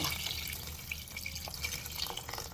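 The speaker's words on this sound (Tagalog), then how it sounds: "Magdagdag tayo ngayon ng sabaw." Broth poured into a pot of chicken tinola, a soft, continuous liquid splash and trickle with scattered drips, quiet and close.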